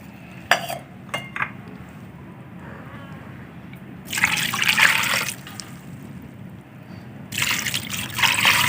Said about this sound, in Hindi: ये 2 गिलास पानी डालूंगी मैं इसमें